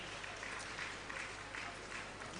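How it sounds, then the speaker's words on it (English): A conference audience gives a round of applause for a speaker joining the stage, a soft, steady clatter of clapping that runs the full length at a distance, fairly faint and without talk over it. "Please, a round of applause for him."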